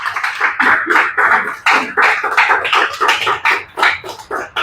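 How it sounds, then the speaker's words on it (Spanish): A church congregation at Iglesia Favor Divino claps steadily in quick, even rhythm for nearly five seconds, the sharp claps close and loud with no voices heard. "Dale un aplauso al Rey"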